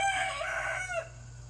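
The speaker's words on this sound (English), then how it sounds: "Rooster." A rooster crows once, loud and close, its call rising then falling away, followed by a faint steady hum.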